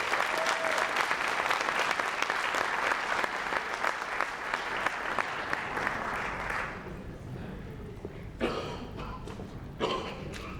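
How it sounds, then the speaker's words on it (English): At an employee recognition ceremony, an audience gives a full round of applause for two performers, steady and strong for several seconds before fading into a few lingering claps and coughs. "Give them a big round of applause."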